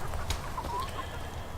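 Chickens in a newly built coop at a market garden give a few short, close clucks over steady background noise.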